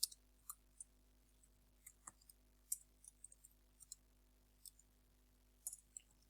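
Computer keyboard typing, heard as sparse, faint, crisp key clicks in an irregular rhythm over a quiet background with low steady hum.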